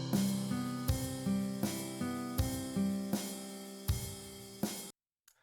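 Guitar Pro drum playback runs through a steady repeating bar pattern with crash and open hi-hat hits, each accent followed by a ringing, slowly fading wash, then stops abruptly into silence.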